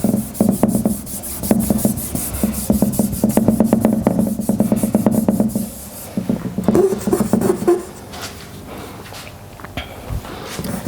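Charcoal smudged across a drawing, a loud close rhythmic rubbing and rasping for about six seconds, then quieter scattered strokes and scuffs.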